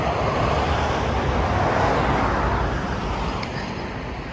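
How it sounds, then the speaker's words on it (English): Steady highway traffic in Northern California rumbles and hisses continuously, a broad wash of passing vehicles at moderate distance, with no talking. "Sorry about the traffic noise."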